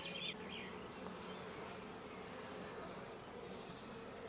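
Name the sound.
honeybee swarm buzzing at a hive frame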